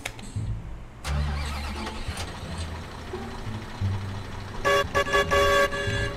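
Horn of a 10-wheel truck honking in Farming Simulator 19, a series of short, loud toots near the end, following a steady engine rumble and starting noise.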